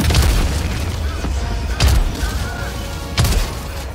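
Orbital strike explosions in the video game Helldivers 2, three heavy booms spaced about a second and a half apart, loud and close, each with a deep thud and rumbling tail.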